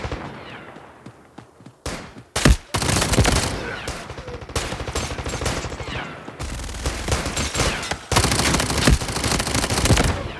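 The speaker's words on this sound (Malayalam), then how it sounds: "എന്താണ് അവിടെ കാര്യമായിട്ട് വെടി നടക്കുന്നില്ല? നല്ല വെടിയാ." Loud, rapid automatic gunfire in the video game Delta Force Mobile, in long volleys with short gaps, dense and continuous like a heavy firefight.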